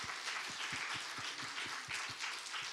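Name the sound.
congregation applause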